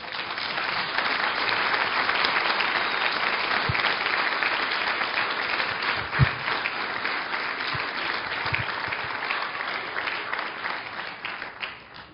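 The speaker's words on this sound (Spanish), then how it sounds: "Dale un aplauso al Señor." A church congregation gives sustained applause during a Spanish-language sermon, a dense, steady clapping that carries for about twelve seconds with a few louder thumps near the middle.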